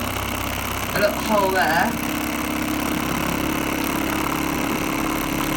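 A vintage Mamod SP2 steam engine runs with a steady, even mechanical drone throughout, while a person talks briefly over it near the start.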